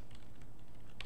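A computer keyboard being typed on while writing Python code, a quick run of light key clicks close by, ending with a sharper keystroke.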